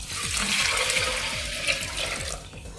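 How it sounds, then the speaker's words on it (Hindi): Water poured onto soaked mixed dal in a pressure cooker, a continuous splashing, gurgling stream lasting a few seconds, close and alone. "अब हम इसमें पानी डालेंगे।"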